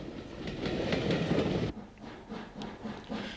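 U class steam locomotive number 68 Down, bound for Bangor on Ulster's railways with a teak-liveried coach at the rear, rumbles past loudly, then the sound drops abruptly to a quieter rolling of wheels and clatter.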